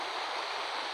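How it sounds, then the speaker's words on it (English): Moving water in the video game Roblox Tsunami Survival gives a steady, broad rushing wash that stays even and continuous throughout, with no voices. "Oh, even the water is moving."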